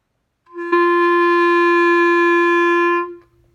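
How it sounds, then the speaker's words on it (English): A clarinet plays an open G with no fingers pressing any keys: one steady, clear sustained tone held for about two and a half seconds, then released, alone and close. "So we're going to play an open G."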